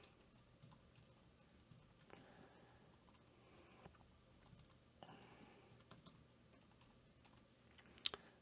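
Code is typed on a computer keyboard as a steady patter of quiet key clicks, faint and continuous, with one sharper tap near the end.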